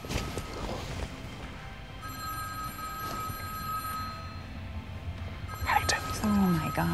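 Telephone ringing with bursts of steady electronic tones indoors, heard under and between people talking, with a louder exchange of voices near the end.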